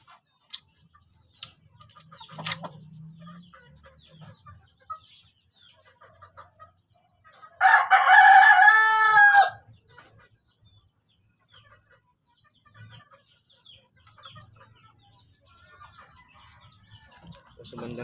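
A backyard rooster crows once, loud and close, a single drawn-out call of about two seconds set against quiet surroundings with scattered faint clicks and soft noises.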